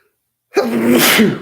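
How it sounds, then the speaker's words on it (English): A single close, loud sneeze bursts out suddenly after a moment of silence. "I was going to sneeze there."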